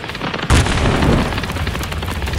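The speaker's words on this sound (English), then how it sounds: "Look at all the explosions" Explosions in the video game Warhammer 40,000: Darktide erupt as a loud, sustained roar of booms and bursts that begins with a sharp hit and keeps rumbling densely throughout.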